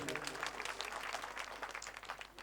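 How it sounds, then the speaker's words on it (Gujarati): A village audience claps and applauds for a local cow-shelter group at a Ramamandal stage event in Navagam, with steady, dense clapping sustained throughout at moderate distance. "એક જોરદાર તાળીઓથી એને વધાવી લે"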